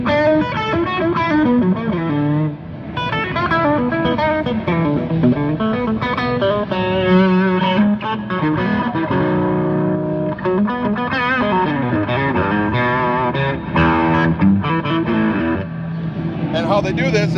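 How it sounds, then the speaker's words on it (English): A loud, sustained Telecaster electric guitar with heavy distortion plays chords and riffs continuously, thick and saturated throughout. "so if I have a little distortion on."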